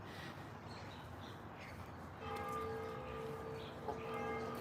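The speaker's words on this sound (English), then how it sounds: "Church bells, 8 o'clock." Church bells ring the hour at eight o'clock on Main Street in Westminster, Maryland, their tones faint and distant, starting partway through over a quiet outdoor background.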